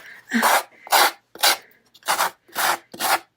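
Sandpaper-like tool roughing up craft material for a holiday card keeper, six rhythmic rasping strokes, each about a quarter second long, close and loud with short pauses between them.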